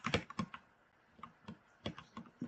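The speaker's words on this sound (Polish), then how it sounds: "czy wam przeszkadza ten mój dźwięk klawiatury, bo on jest bardzo głośny" Keyboard typing close up, quick bursts of clicking keys separated by short pauses, fairly quiet, no talking.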